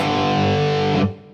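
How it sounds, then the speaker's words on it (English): A single loud distorted electric guitar power chord rings out for about a second, then is abruptly muted. "Play them together, it sounds like this."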